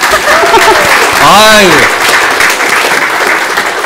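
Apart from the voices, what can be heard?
congregation applause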